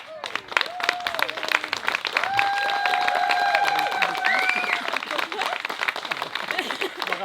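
Applause from wedding guests at a reception, a continuous patter of clapping with cheering and whooping voices rising over it for several seconds.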